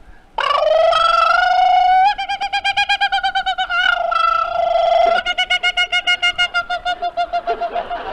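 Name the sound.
person imitating a kookaburra call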